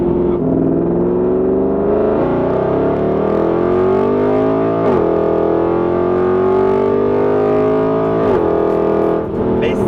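A Mercedes-Benz C63 AMG accelerates hard and close, its loud engine tone climbing steadily through the gears with brief dips at the shifts, heard alone without talk.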